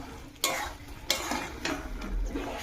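A dry-roasted ground mix of red chilli and fennel stirred into olive pickle in a pot, heard as three or four close, distinct spoon scrapes against the vessel over a faint background.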